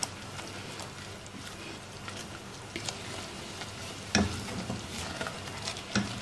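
Homemade chili garlic sauce with crushed chilies simmers in a pan, giving a continuous soft sizzle and bubbling with occasional louder spits and stirring taps.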